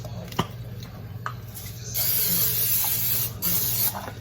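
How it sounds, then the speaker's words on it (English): Two short bursts of olive oil cooking spray hiss close by, each lasting about a second, after a few light clinks. "a little olive oil spray there"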